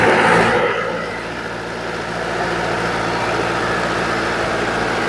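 A Swaraj 843 XM tractor engine fires up with a loud initial burst, then dips and settles into a steady, rumbling diesel idle nearby.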